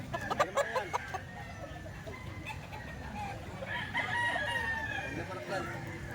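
Chickens cluck and a rooster crows over a busy outdoor background, with a faint voice underneath and more clucking throughout.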